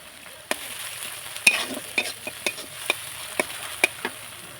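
Coriander-cumin paste frying in a pan with a soft continuous sizzle, while a spatula taps and scrapes against the metal in irregular sharp strokes about every half second, close by, no talking.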